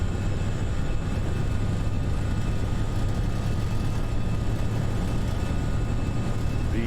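Airbus A319 engines spooling to takeoff thrust in the Prepar3D flight simulator, a loud steady roar with a low droning hum that holds constant and alone.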